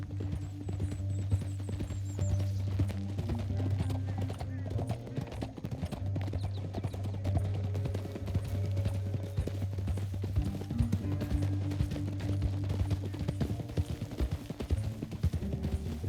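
Horses galloping in the video game Red Dead Redemption 2, a steady rapid drumming of hooves with low engine-like rumble from the game's soundscape, continuous throughout with faint voices underneath.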